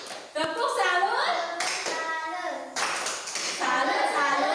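A group of people clapping in unison in a classroom-style gathering, sharp rhythmic claps in repeated bursts with cheering voices mixed in.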